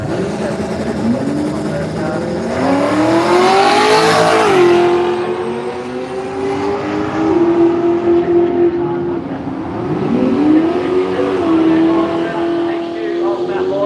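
A purple Toyota Celica drag car makes its run at Willowbank Raceway in Australia, its engine screaming upward through gear changes as it passes, loud at first and then fading into the distance.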